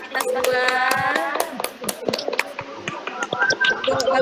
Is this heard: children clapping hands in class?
yes